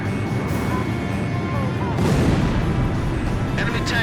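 An enemy tank blows up in Ace Combat 5, a loud booming blast over dense rumbling battle noise and crackling debris.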